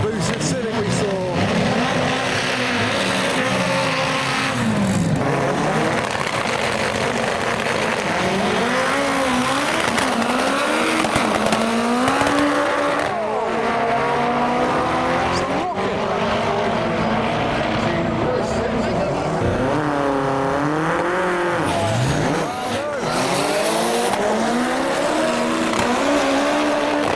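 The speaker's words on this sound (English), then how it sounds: "Here comes the boosted Civic we saw." Boosted Honda Civic Type-R with a K24 engine driving past at a race event, its loud engine note rising and falling through gear changes over steady background roar and crowd noise.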